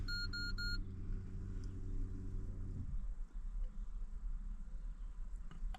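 An Alfa Romeo Mito being started after a reverse camera installation: a few dashboard chimes and a steady electrical hum, then a drop into a low engine idle rumble that continues to the end.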